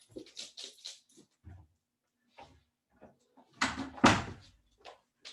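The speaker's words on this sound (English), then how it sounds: "Sorry, very noisy dog." A dog is shuffled out of a room in short bursts of scrabbling, thumps and a door knock or slam, with scattered quiet movement between, recorded close indoors.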